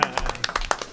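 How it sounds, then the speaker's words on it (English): A few quick hand claps, close and sharp, in an uneven burst. "I'm gonna clap."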